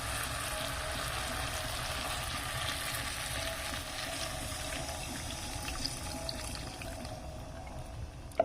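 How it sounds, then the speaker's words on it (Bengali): Water poured into a frying spice masala for a vegetarian potato curry with small new potatoes, a steady hissing rush and bubbling sizzle that softens toward the end, with a sharp clink at the close. "এবার এখানে আমি একটু জল দিয়ে দেবো।"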